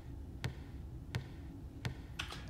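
A basketball dribbled with a medium cave reverb bounces three times at an even pace, then gives a fainter fourth knock, each thud trailing off in a roomy echo with no voices.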